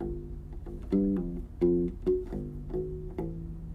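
A U-Bass plays a short, syncopated funk riff of plucked and slid notes, with punchy percussive attacks, close and clear, no voices.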